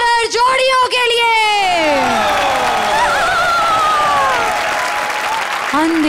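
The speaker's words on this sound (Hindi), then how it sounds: "और जोरदार तालियां हमारी हॉरर जोड़ियों के लिए।" A comedy show studio audience bursts into loud, sustained applause mixed with cheers and whoops, with a host's voice and musical tones sounding over the clapping.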